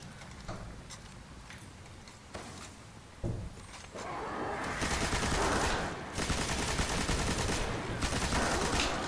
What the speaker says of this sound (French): Heureusement que j'ai une putain d'arme lourde qui envoie de la sauce.